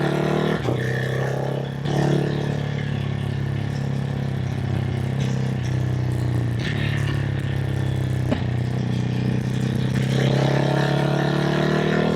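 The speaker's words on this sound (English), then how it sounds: "I love that little like crackle it gives when you downshift an engine brake into a corner like that." A motorcycle engine hums steadily at mid pitch while riding on a quiet back road, with a few short sharp crackles and pops as it downshifts with engine braking into a corner.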